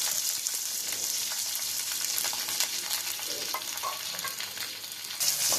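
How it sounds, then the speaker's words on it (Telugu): Sliced onions and curry leaves fry in hot oil for a radish chutney, giving a steady, dense sizzle close to the pan with a few soft stirring scrapes. "ఈ ఉల్లిపాయలను కొంచెం సాఫ్ట్గా వచ్చేంత వరకు ఫ్రై చేసుకోవాలి."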